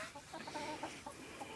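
Hens clucking inside a farmyard chicken coop, a steady run of soft, close clucks and murmurs at low level with no talk over them.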